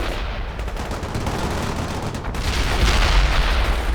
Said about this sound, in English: A machine gun is ready.